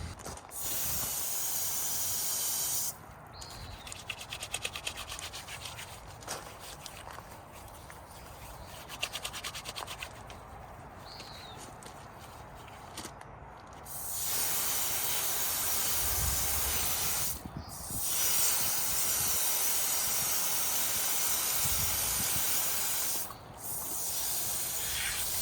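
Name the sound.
rinsing hands under running water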